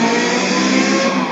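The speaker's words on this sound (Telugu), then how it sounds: "ఆ బటన్ నొక్కామంటే మనకి స్పోర్ట్స్ బైక్ దూసుకెళ్ళిన సౌండ్ ఎలా ఉన్నదో అలా వచ్చేస్తుంది" Chalo 1000 V2 electric scooter playing its simulated sports-bike engine sound through a built-in speaker, a loud, steady, buzzing engine-like drone held evenly for the whole moment, close up and without talk.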